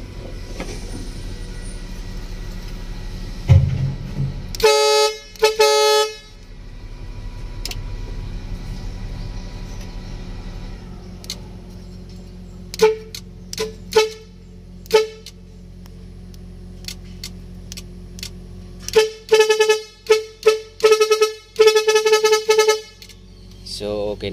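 A car horn, rewired with a modified horn switch, honks in short repeated blasts, some single and some in quick series, separated by stretches of quieter background hum.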